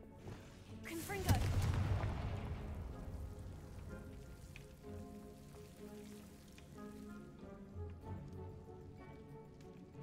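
A Confringo fire spell in a Harry Potter video game goes off with one sudden booming blast, followed by a crackling, rumbling tail that fades slowly under a soft ambient game soundscape.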